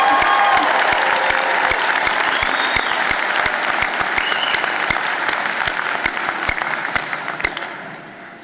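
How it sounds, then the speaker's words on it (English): Audience applause for graduates at a college recognition ceremony for humanities and fine arts, a sustained roomful of clapping with sharp individual claps cutting through, tapering slightly toward the end. "Let's applaud you."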